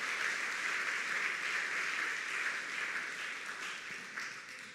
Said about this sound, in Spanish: Démosle ese aplauso a Jesús.